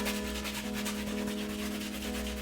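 A brush scrubs acrylic paint across a canvas in a crisscross blending pattern, giving a steady, close, dry rubbing texture with a faint background hum and no talking.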